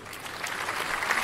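A short burst of people clapping their hands together, a steady patter of many quick overlapping claps, fairly close and with no voices.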